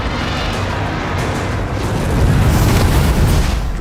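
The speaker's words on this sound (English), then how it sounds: "Drogon's fire blasting does a lot of damage." Dragon fire blasting in an explosive battle scene from Game of Thrones season 8, episode 5: a loud, continuous roaring rumble with heavy low end that swells stronger toward the end, with no voices.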